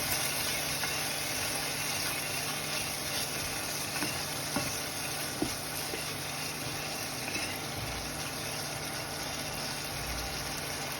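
Spices sautéing in oil for mung dal, a steady, dense sizzle and fry hiss throughout, with a few faint clinks of stirring.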